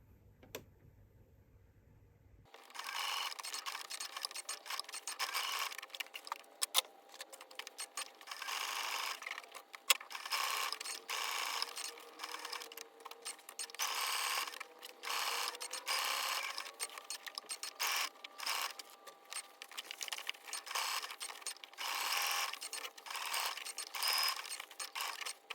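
A sewing machine runs free-motion embroidery, stitching embellishing fiber onto scrappy Liberty fabric for a textile art piece: after a brief quiet start, a close, steady mechanical whir and rattle continues with small surges and no talk.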